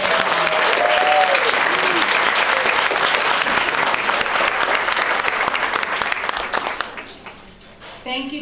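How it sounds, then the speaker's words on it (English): A gala audience applauds loudly and steadily for event sponsors, a dense wash of clapping that carries on for several seconds before tapering off, with a few voices underneath. "Let's give them all a round of applause."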